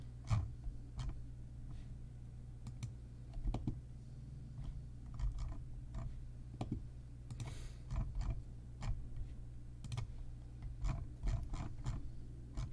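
Rapid scattered clicks of a computer mouse and keyboard, some in quick bursts and others spaced apart, close and fairly quiet over a steady low hum, with no voices.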